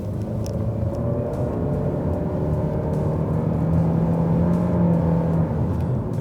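A Honda Civic engine gives a steady, throaty hum with low rumble, held near and fairly loud with no talk over it.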